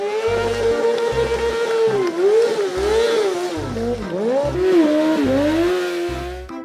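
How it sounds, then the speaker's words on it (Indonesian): Toy motorcycle with a continuous electronic engine-revving tone that rises and dips in pitch, loud and close, over a steady beat of low thumps. "Sepeda motor."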